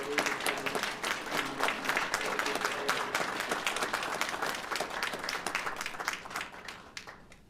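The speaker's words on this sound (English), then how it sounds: "if you want to give him a round of applause" Enthusiastic audience applause at a Legion of Merit award ceremony, many hands clapping in a sustained, crisp burst that thins out and fades over the last second, with faint crowd voices mixed in.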